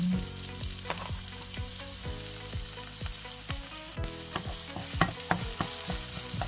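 Onions sauté in a pan greased with fat rendered from meat, a steady close sizzle and crackle broken by repeated scraping stirs at an even rhythm, with no voices.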